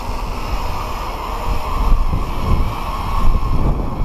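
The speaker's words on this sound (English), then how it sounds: "It's a little windy" Steady wind buffeting a microphone, a continuous low rumble with slight gusts, no voices.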